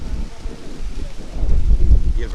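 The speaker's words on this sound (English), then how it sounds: "it's extremely windy." Strong wind buffeting the microphone at a women's football semifinal in Kingston, a steady low rumble that swells louder in the second half, with no clear talk.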